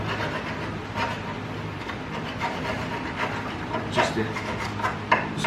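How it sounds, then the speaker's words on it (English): Metal file rasping out the bottom of a tie rod hole on a Honda Civic sedan during a spherical bearing upgrade, close, repeated scraping strokes with a few sharper bursts near the end over a steady background hum, a word spoken briefly. "so I'm gonna take my file here. File out the bottom of the"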